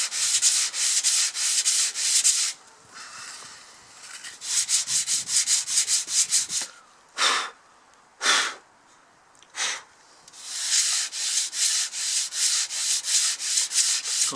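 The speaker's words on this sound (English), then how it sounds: "Go at it with our sanding block, same sanding block as we used for the other wing." Repeated rhythmic strokes of a sanding block rasp against a wooden model wing, steady bursts separated by a pause and a few isolated passes before the scraping resumes.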